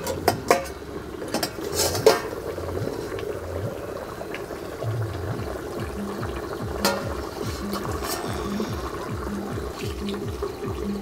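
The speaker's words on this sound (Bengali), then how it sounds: "এই কালিয়ার জন্য দিয়ে দিচ্ছি মাছ" Fish goes into a pan of simmering kalia curry, with metal utensils clinking and scraping against the pan over a low bubbling bed, louder knocks early on and then steady rhythmic stirring clatter.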